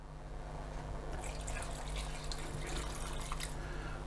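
Water is poured into a pot of pilaf, a steady close splashing and trickling that grows brighter and more bubbly partway through, with no talk.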